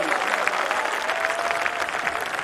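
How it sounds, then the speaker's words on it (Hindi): Audience clapping at a Hindi kavi sammelan poetry recital, a dense, even round of applause from a crowd that carries steadily throughout. "तालियां तो बजनी चाहिए संकल्प के।"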